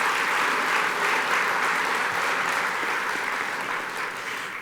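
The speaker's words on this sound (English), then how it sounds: "Please give a round of applause to these outstanding volunteers and volunteer groups" An alumni awards celebration audience gives sustained applause for volunteer award winners, a full, even roar of clapping that tapers slightly at the end.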